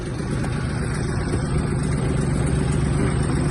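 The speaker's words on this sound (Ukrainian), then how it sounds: "дамо трактору трохи прогрітися" A Kubota T-240 mini tractor's engine idles as it warms up, a steady, close low chug with an even mechanical rattle that holds unchanged throughout.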